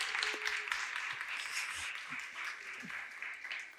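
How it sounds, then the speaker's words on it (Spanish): A church congregation applauds the mothers during a Spanish-language service, a soft, fairly distant patter of clapping that continues steadily. "Un aplauso para las mamás."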